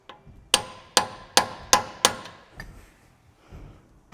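Hammer blows staking the drive nut on a Land Rover Discovery 4 wheel hub: five sharp metallic strikes at an even pace, then a couple of softer taps, close and clear with no talk.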